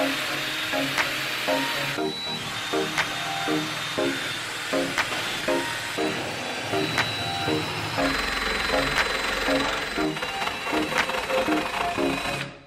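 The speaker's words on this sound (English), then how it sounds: "Wire wheeling this corner piece trim thingy." Wire wheel grinding metal corner trim on a Toyota RV roof, a steady whirring scrape running throughout with faint rhythmic ticking.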